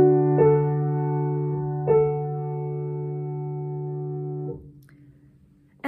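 A sustained chord opens a harmonic dictation exercise, struck twice with steady, evenly held electronic tones before fading out, alone and moderately loud.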